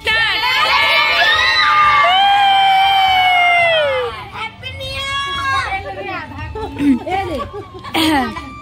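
A crowd of children at a New Year party shouts and cheers loudly together in long, high cries, then breaks into scattered yells and chatter nearby.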